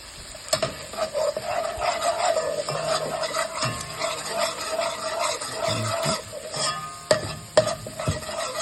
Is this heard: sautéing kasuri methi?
yes